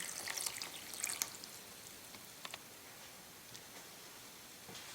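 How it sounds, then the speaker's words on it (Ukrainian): Water is poured over dried black wood ear mushrooms in a kitchen, with a brief splash and trickle at the start, then faint scattered drips and small liquid ticks, soft and close. "Заливаємо нашу аурікулярію водою."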